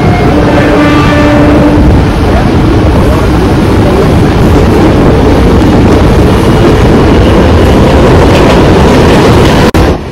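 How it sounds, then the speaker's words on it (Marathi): The Bandra Vapi Express roars loudly across a bridge over a creek, a dense, constant rumble and rattle of wheels heard from on board, with a brief horn-like tone at the start. "आणि आता इथे खाडी आलेली आहे आणि ब्रिजवरून चालली आहे ट्रेन"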